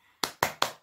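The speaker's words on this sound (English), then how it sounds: "Can I get a clap from everybody?" Group of people at a children's toy session clapping hands together in unison, four sharp, evenly spaced claps in quick succession, close and clear with no talking.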